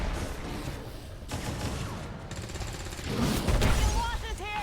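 Rapid gunfire rattles through a heavily modded XCOM 2 battle as soldiers fire on a Mimic Beacon decoy, dense overlapping volleys continuing loudly throughout with game effects layered on top.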